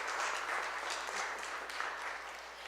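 Soft applause from a congregation after a meditation song, a faint, steady wash of clapping heard from a distance for a few seconds with no talking.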